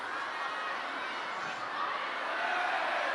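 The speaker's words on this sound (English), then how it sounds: "Most of these fans are cheering for Wang Chuqin" Fans cheer in a table tennis arena at a China versus Japan team match, a steady wash of crowd noise and excited voices that swells slightly toward the end, heard at moderate distance.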